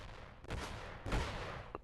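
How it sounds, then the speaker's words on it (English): Two heavy, noisy blasts from a video game rocket launcher, each a broad rumbling burst that decays over about half a second, followed by a brief faint tone. "Not that big of an explosion."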